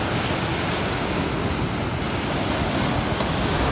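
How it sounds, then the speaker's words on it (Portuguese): Ocean surf rolls and breaks at Praia Grande beach in Ubatuba on a sunny day with surfers out, a steady loud wash of waves mixed with wind noise, no voices. "Ondas rolando também, bastante surfista aproveitando"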